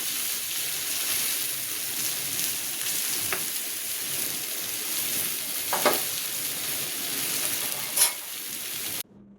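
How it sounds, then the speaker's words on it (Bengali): Taro leaves (kochu shak) fry in a pan in a steady, continuous sizzle, close and fairly loud, with a few brief stirring clinks before the sound cuts off at the end. "শেষ আমার কচু শাকটা রান্না করা ভালো করে ভাজা ভাজা হয়ে গেছে"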